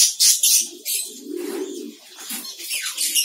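A caged diamond dove coos in soft, low repeated phrases close by, with brighter chirps and light rustling from other doves in the cage.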